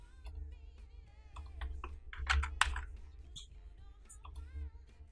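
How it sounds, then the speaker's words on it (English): Keys clatter on a computer keyboard in close, irregular bursts of clicks and taps, quiet overall with a few louder strokes in the middle and no talking. "Like for now I'm going to type only one letter"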